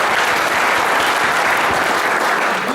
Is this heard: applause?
yes